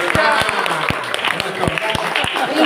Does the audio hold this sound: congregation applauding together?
yes